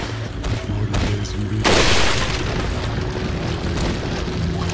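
A single loud gunshot-like boom from Resident Evil 4: Separate Ways bursts out midway over a dense, steady game soundscape, its roar lingering and fading.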